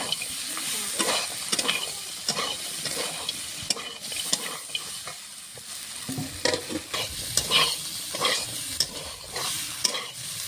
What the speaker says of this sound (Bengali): ভেজে রাখা সয়াবিনটাও দিয়ে দেবো দিয়ে কষিয়ে নেব